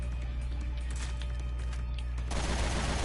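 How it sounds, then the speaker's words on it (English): Machine gun fire in Resident Evil: Revelations 2 Raid Mode rattles in a dense, continuous burst, a loud steady roar of rapid shots over a low rumble, growing harsher near the end. "Machine gun."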